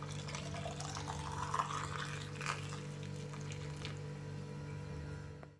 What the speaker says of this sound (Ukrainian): Кип'ятком заливаємо огірки.